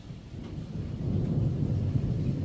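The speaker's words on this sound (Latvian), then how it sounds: "Redziet, kā ducina pērkons" Low, continuous rumbling of thunder in a tropical thunderstorm with rain, swelling slightly and staying steady throughout, with no talk.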